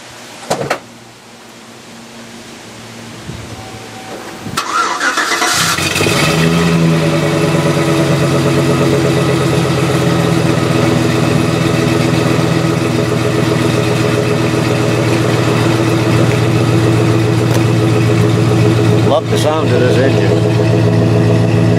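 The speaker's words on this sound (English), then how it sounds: "we'll go give her a little start up here. Truck hasn't been run for very much, for a year" A truck left unused for about a year cranks over and fires, then settles into a steady, loud, close idle with a low droning hum that continues unbroken for the rest of the clip.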